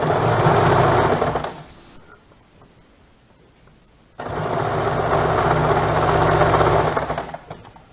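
A sewing machine stitches along the edges of a semi Patiala salwar in two steady close runs, separated by a quieter pause of about two seconds.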